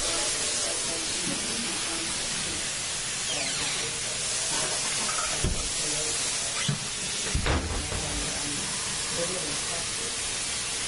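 Fish sizzling in a pan, a steady hiss running throughout, broken by a few clattering knocks and faint background voices.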